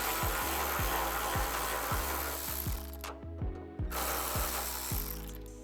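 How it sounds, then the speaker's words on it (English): A hand ratchet backs out two 12mm hood bracket bolts on a 2003-2009 Toyota 4Runner, giving a close, steady run of repeated clicks with a short pause partway through and no talking. "These are two 12mm bolts that you'll be removing."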